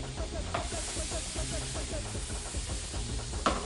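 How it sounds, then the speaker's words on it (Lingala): Escalopes laid into a very hot pan of melted margarine, giving a steady loud broadband sizzle and crackle with small pops throughout, close up and without talk. "Mes escalopes, je les dépose dans notre poêle avec la margarine fondue."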